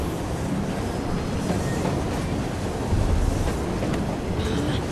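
A train rumbles along in Assassin's Creed Syndicate, a steady broadband roar like wind and rolling wheels, with a brief louder surge midway and faint high squeals near the end.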